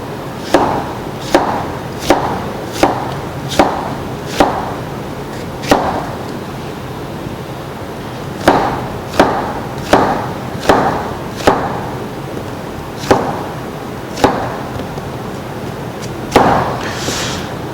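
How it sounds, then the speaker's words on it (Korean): A knife chops radish into thick slices on a cutting board for a yuzu radish pickle, with sharp, loud, evenly spaced thuds in several runs and short pauses between them. "4cm에 요 정도 두께로 해서 무를 다 썰겠습니다."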